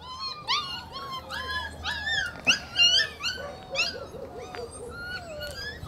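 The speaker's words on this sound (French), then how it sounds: "Dans le parc, il y avait tous les chiots." Several puppies in an outdoor pen with a wire fence whimper and whine in high, overlapping cries, close by, with occasional sharper yelps and no talking.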